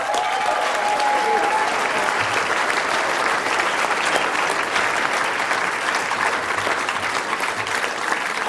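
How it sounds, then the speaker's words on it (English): A crowd at a 2013 Australian federal election night speech applauds in a steady, loud wash of clapping that continues without a break throughout. "Give him a round of applause."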